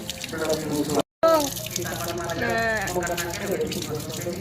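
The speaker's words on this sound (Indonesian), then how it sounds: "Air mengalir ya. Yuk kita cuci tangan bareng-bareng." Hands are washed under a running tap, a steady close wash of flowing water throughout with a brief gap, while someone talks and sings over it.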